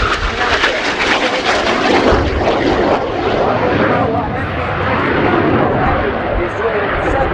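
An Italian Air Force Frecce Tricolori MB-339 jet roars at full throttle through a high-G manoeuvre at an air display, a loud, continuous, broadband engine blast with a commentator's voice talking over it.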